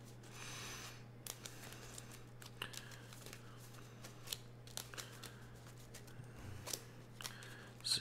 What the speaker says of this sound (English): As always, give it a quick shuffle.